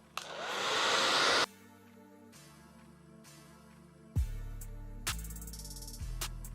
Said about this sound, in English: I'm gonna go ahead and define it using my diffuser